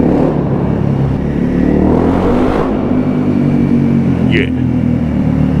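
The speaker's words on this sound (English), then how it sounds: "Damn, that old Goldwing." An old Honda Goldwing motorcycle engine runs close by with a loud, steady rumble throughout, and a brief voice is heard over it.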